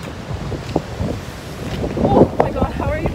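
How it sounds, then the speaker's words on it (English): Gusty wind buffets the microphone with low rumbling bursts at the Pacifica coast, and faint sounds of the sea lie beneath. "Super windy."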